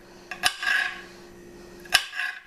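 A kitchen knife slicing a bell pepper on a cutting board, two sharp taps of the blade hitting the board, each followed by a brief crisp crunch, close and fairly loud with no talking.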